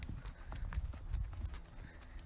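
Horse hooves clip-clop on a rocky trail during a trail ride, a quick uneven run of thudding strikes close by, heavy in the low end.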